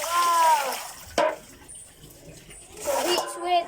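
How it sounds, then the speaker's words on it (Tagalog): Water splashes onto a dog during a bath, with wet sloshing bursts at the start and end, a sharp splash in between and a voice talking over it. "First, if you have any water, splash them like this, and this."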